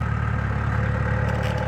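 A tractor engine runs steadily on raw off-grid land in Alaska, a continuous mid-to-low idling drone with a faint rattling clatter, close and unbroken, with no one speaking.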